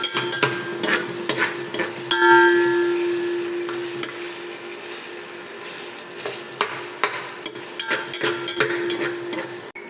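Chopped onions fry in hot oil for a soybean curry gravy, a steady close sizzle with scattered spoon scrapes and clicks against the pan, rising briefly into a louder hiss partway through.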